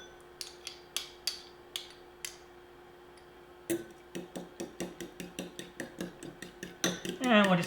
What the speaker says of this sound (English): And we'll just keep whisking that together.